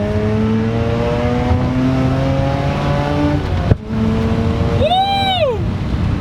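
A Mazda RX-8 revs hard through a pull, the engine note climbing steadily, then a sharp gear change and a fresh rise in pitch, loud and close.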